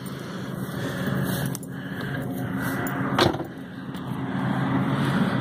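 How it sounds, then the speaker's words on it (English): A forage chopper and truck approaching across a field during silage harvest, a steady distant engine drone that gradually grows louder, with a brief knock midway. "here comes the chopper and the truck."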